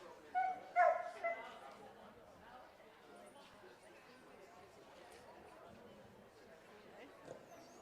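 Dogs at an indoor breed dog show give a few short barks and yips near the start, then quieter dog and hall noise continues as a voice speaks over it.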